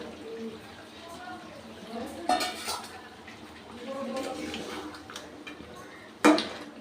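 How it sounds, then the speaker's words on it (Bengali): Fried potatoes tumble into a pot of cooked chicken with a couple of clattering knocks against the metal, the last one sharp and loud, while a person talks throughout. "এবার আমি দিয়ে দিচ্ছি চিকেনের মধ্যে ভেজে রাখা আলুগুলো"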